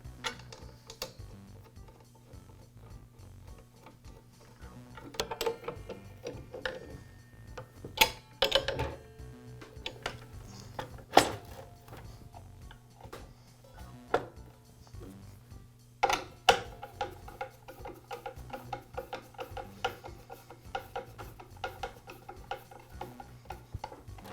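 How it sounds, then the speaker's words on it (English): Small metal clicks and taps from screwing a blade screw back in and lowering and securing the guard on a DeWALT miter saw, scattered irregular ticks at close range over a steady low hum, with no talking. "I'll finish up by reinstalling the blade screw and lowering the guard and securing it"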